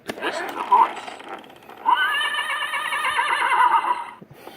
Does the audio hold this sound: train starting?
no